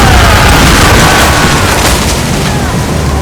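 Ship cannons fire at drifting ice in Assassin's Creed Rogue, a loud sustained barrage of deep booms with heavy low rumble filling the whole stretch, under faint game voices.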